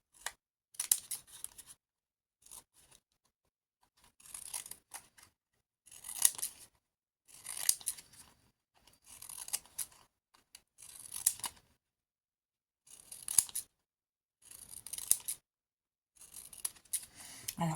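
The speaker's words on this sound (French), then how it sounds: "Donc je fais avec mes ciseaux cranteurs le tour." Pinking shears snip around the edge of paper in a series of short crisp cutting bursts, close and quiet, separated by brief pauses.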